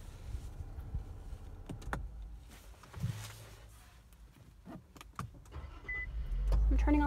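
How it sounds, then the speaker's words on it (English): Power seats and steering wheel of a 2018 Infiniti Q50 Luxe 3.0 AWD move on startup, with a soft electric motor whine and a few small clicks against low cabin rumble. "I'm turning on the car and then you can see my seats moving forward and the steering wheel."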